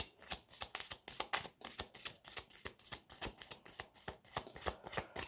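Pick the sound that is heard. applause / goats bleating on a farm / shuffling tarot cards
shuffling tarot cards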